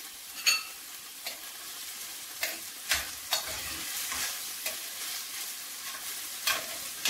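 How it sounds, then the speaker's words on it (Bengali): Chicken fries with spices, bay leaf and lemon in a pan, a low steady sizzle broken by occasional sharp stirring scrapes and clacks, close up and fairly quiet, with no voices. "কিছুক্ষণ নেড়ে ছেড়ে কষিয়ে নেব চিকেনটাকে"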